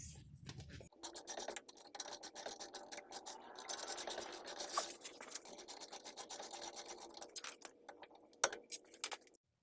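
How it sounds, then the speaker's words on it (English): Close metallic rubbing and scraping while the sliding guard comes off a 2003 BMW Z4 2.5i front brake, with small clicks and a few sharp knocks. "Taking the sliding guard off."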